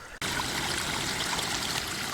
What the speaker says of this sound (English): So we got the creek running right here. I hope y'all can hear that water flowing.